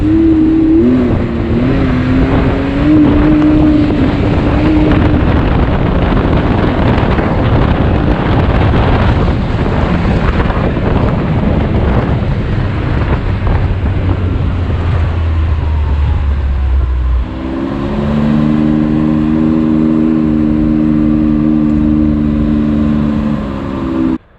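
Can-Am Maverick X3 X DS Turbo RR side-by-side on hot laps, its turbo engine revving, climbing and shifting through gears amid heavy wind buffeting, loud and continuous with no speech.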